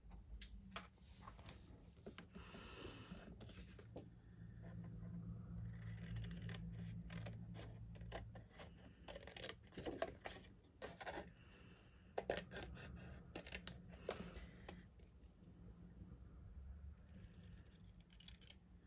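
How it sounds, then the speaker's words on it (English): Quiet snipping of scissors through a scrap of white cardstock, a run of short crisp cuts with small pauses in between, close by and with no talking. "Scissors."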